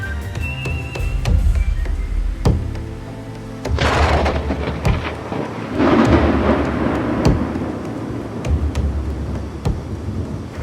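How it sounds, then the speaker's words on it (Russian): A night thunderstorm in the countryside brings a loud, rumbling roll of thunder that swells and fades over steady rain, with sharp drips and knocks scattered throughout. "Ночью началась гроза."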